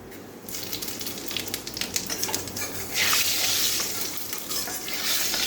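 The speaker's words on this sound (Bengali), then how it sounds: "তেলটা গরম হয়ে গেছে এখন এলাচ গোটা গরম মশলা আর কি এলাচ দারচিনি লবঙ্গ তেলে দিয়ে দিলাম" Whole cardamom, cinnamon and cloves hit hot oil and sizzle steadily at close range, crackling louder from about halfway through, with some stirring noise and no voices.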